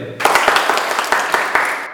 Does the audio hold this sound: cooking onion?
no